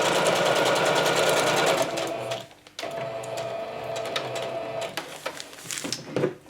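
Sewing machine stitching a vellum scrap pouch, running steadily and loud, then stopping briefly and resuming in shorter uneven bursts with small clicks, close by.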